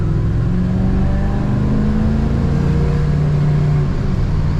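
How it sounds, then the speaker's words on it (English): A white two-door 1963 Chevrolet Bel Air post with a column automatic drives along, its engine revving and rising in pitch in a loud, continuous close-up drone. "Today we're driving a 1963 Chevrolet Bel Air."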